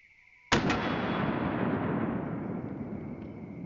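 A single loud gunshot from an MR920 pistol with a threaded muzzle cracks sharply and is followed by a long, gradually fading echoing tail, with no voices.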